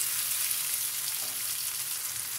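Diced potato filling for börek fries in a pan, giving a steady, close sizzling hiss that stays even throughout, with no voices.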